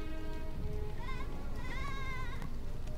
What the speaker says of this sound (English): I fail to notice these sheep.